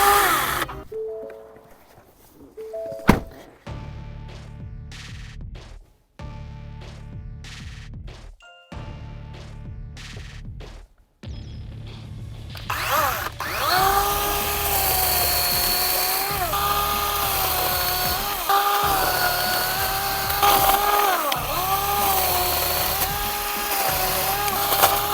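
Makita 18V brushless 14-inch cordless chainsaw, first in short bursts separated by silences, then running continuously with a steady high whine cutting soft pine, loud and close.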